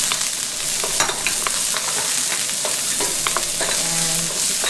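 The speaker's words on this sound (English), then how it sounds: "I got 1 cup of onions. We're gonna just saute this," One cup of onions sautéing in about two tablespoons of oil in a pan, a steady loud sizzle and crackle with occasional scraping stirs, no talking.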